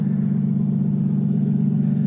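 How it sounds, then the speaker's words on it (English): A 1998 Toyota Aristo V300 idles through a nearly straight-pipe exhaust with only a small glass-pack style resonator, giving a loud, steady, deep burbling drone up close with a fast even pulse. "Listen to that exhaust. It is a burbly exhaust."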